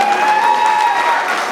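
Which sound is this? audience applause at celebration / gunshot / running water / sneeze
audience applause at celebration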